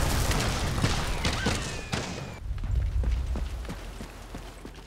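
Rapid gunfire in a video game, a dense volley of sharp shots and booms for about two seconds, then a sudden drop to scattered thuds and quieter distant pops.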